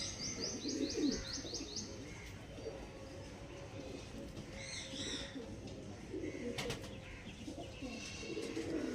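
Pigeons coo softly and low beneath a steady background, while small birds chirp in short bursts higher up.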